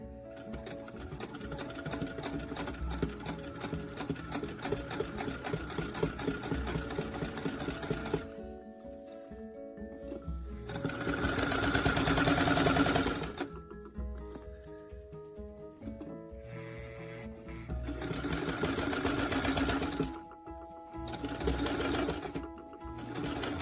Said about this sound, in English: now we're going to top stitch it really close to the edge once again